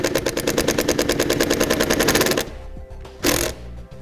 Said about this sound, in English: We'll now take our provided self-tapping screw, place it through our wire, and then screw it into the hole that we've just drilled out